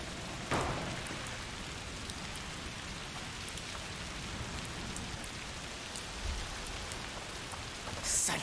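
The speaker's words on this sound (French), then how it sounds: "Saleté de pluie." Steady rain falls in the video game A Plague Tale Requiem, a dense, even hiss of drops on surfaces that lasts throughout, with a brief louder patter near the start and near the end, and no voices.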